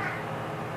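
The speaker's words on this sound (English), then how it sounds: "I start to vlog and Murphy starts to meow" A house cat meows from somewhere out of view, a short, fairly faint call heard alone in a quiet room.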